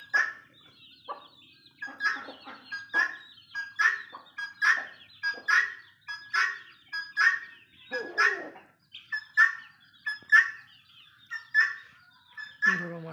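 Poultry call out repeatedly in a fairly regular rhythm, loud and close, with short squawking bursts every second or so.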